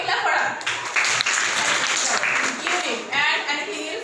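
A classroom of young pupils claps together in praise of a classmate, a dense, steady burst of applause lasting several seconds, close and fairly loud, with some children's voices mixed in.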